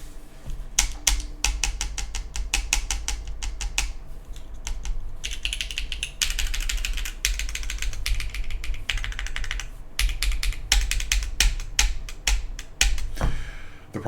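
Keyboard switches rattling loose in Mill-Max sockets on a Mode Envoy keyboard: dense, rapid clacking keystrokes with a light rattle, played up close and steady throughout.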